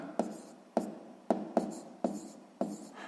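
Marker or chalk strokes on a board during a sixth-grade maths lesson, six sharp taps and scratches spaced roughly half a second apart, each followed by a short scraping trail, close and fairly quiet.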